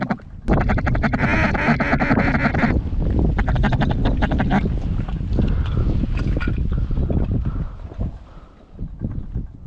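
Mallard ducks quacking as they fly in over a hunting spot during an ice storm, a dense chorus of loud quacks close by, mixed with wind noise and thinning out toward the end.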